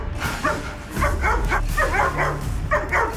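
A police service dog barks and yips in a rapid series of loud, close barks mixed with whimpering, over a low background rumble.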